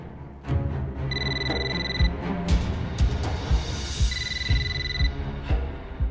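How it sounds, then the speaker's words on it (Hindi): A telephone rings in a Turkish drama scene, its repeated electronic trills sounding in two bursts over background music with soft rhythmic thumps, no talk. "चलो फोन उठाओ"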